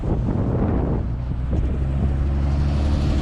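Strong wind buffets the microphone outdoors in a loud, continuous roaring rush with low rumbling gusts throughout, no voices heard.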